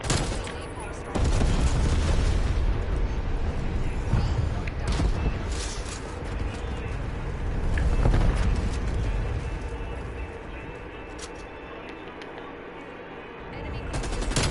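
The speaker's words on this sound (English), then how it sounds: "Napalm strike." Napalm strike in Call of Duty: Black Ops Cold War, a sustained roar of loud, dense explosions and crackling gunfire-like bursts that rumble continuously for about fourteen seconds, easing slightly near the end.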